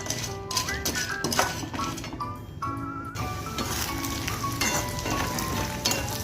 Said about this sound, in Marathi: सांगे हे आपले तळून घ्यायचे